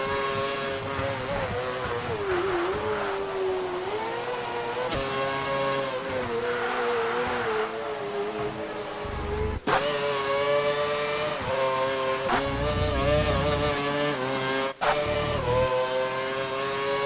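Onboard race car engine in an F1 video game at the Malaysia circuit, loud and continuous, rising and falling in pitch through gear shifts with sharp upshift breaks, no talk.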